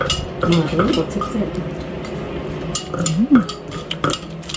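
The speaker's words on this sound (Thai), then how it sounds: "เพื่อนกำลังตำส้มตำให้กินค่ะ" Pounding of som tam papaya salad in a mortar, giving irregular knocks and clinks of utensils alongside kitchen clatter, with a person talking in the background.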